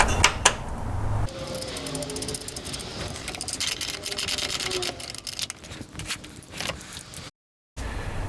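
A wrench turns a 17mm nut and washer on the driver's side of a Perrin pitch stop bracket on a Subaru WRX or STI. Close metallic clinks and ratcheting clicks continue with no talking, then stop in a brief dropout near the end.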